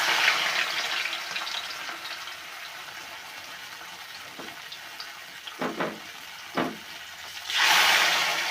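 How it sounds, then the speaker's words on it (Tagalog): Steady hiss and crackle of battered water spinach frying in hot oil until crispy, with a few clinks of utensils and a louder burst of sizzling at the end. "Ang next po natin na gagawin ay ipiprito ito."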